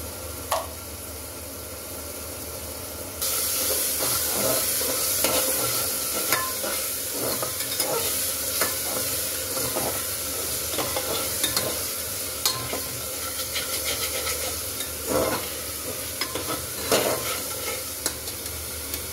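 Masala spices with ground coriander and a little sugar fry in a pan, a soft continuous sizzle under repeated scraping and clinking of a spoon stirring, no talk.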